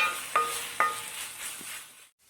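Onions sautéing in a pan, a steady broad hiss of frying with two sharp utensil clinks against the pan, fading out to near silence at the end.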